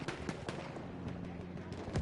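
Gunfire in a multiplayer video game battle on a private server, a steady clatter of shots and impacts across the whole moment, with repeated sharp cracks spread throughout at a moderate, somewhat distant level.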